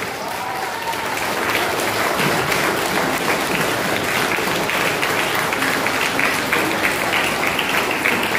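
A school audience at a Class 11 freshers' event claps continuously, a loud, dense and sustained roar of many hands that swells slightly after the first second and holds steady to the end.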